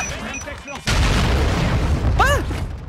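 Sniper fire in a video game: a heavy booming shot lands after brief voices, followed by a sustained loud rumbling tail, with excited voices shouting over it.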